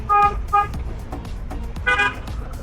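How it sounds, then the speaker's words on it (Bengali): Three short car horn toots, two in quick succession and then one more after a pause, sound on a highway bus stop stretch between Dhaka and Sylhet over a low road rumble. "হর্ন বাজাও পথচারীকে সাবধান করো"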